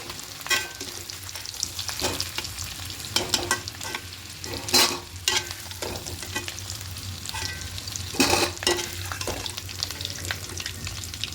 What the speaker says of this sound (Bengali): আলুগুলো হালকা লাল লাল করে ভাজা হয়ে যাচ্ছে